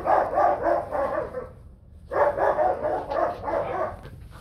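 A white fluffy Bac Ha dog barks loudly and close in rapid repeated bursts, pauses briefly, then starts up again with another run of sharp barks.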